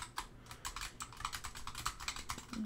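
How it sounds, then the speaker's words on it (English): Steady clicking of keys on a computer keyboard, a quick irregular run of taps close to the microphone. "and then if I type on my keyboard"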